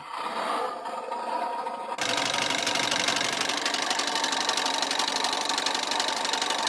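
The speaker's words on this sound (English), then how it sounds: "One of the gimmicks of the truck is that it has a working, well, I shouldn't say working, but shaking engine and sounds." A New Bright Bigfoot 1:10 scale toy monster truck plays its simulated engine sound, a steady electronic rumble with a rattling, buzzy texture that starts abruptly after a brief quieter hum and runs on without a break.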